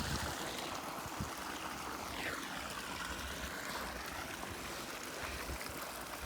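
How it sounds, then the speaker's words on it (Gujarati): Water runs steadily from an opened tap in a farm field. The flow is a continuous, fairly quiet rush with no voices over it. "ખોલી લીધું છે નળ"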